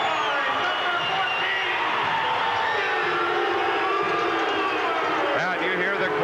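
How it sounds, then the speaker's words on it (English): Crowd at a junior hockey game between the Tri-City Americans and Kamloops Blazers cheering and roaring after a tying goal, a dense, steady wall of arena noise throughout with voices mixed in. "you hear the crowd as they congratulate Barnesy"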